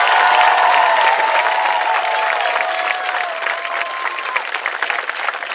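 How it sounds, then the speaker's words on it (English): High school graduates in row 2 receive a round of applause at a 2024 graduation ceremony, loud sustained crowd clapping with cheers and whistles that gradually thins out. "Let's have a round of applause for row 2."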